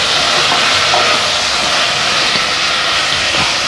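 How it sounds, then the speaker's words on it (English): Sliced tomato fries in a pot, giving off a loud, steady hiss and sizzle that runs unbroken throughout, with no talking over it. "Add the clean and sliced tomato into the pot. Then start frying it really good and mix it."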